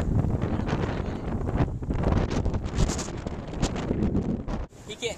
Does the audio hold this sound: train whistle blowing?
no